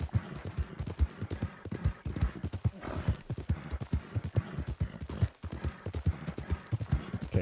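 Horse hooves clip-clop at a steady trotting rhythm in Red Dead Redemption 2, close and prominent, with many quick repeated hoof strikes continuing throughout.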